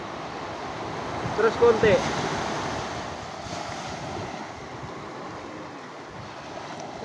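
Ocean waves and wind at the sea, a steady wash of surf with a gusty, rumbling wind roar on the microphone; a few brief voices call out near the start, with quieter talk later.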